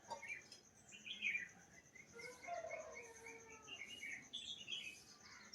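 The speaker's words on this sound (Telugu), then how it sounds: "ఆ చెట్ల పైన పక్షులు చాలా బాగా కోతాయండి" Birds chirping and calling from trees beside a house in the early morning, a mix of short bright tweets and warbling phrases, moderately distant over a soft steady background hiss.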